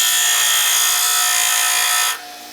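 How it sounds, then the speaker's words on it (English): A power grinder works a flat onto one end of a half-inch wooden dowel, a steady loud high-pitched grinding whine that holds for about two seconds before cutting off sharply, leaving a fainter tail. "we need to grind a flat"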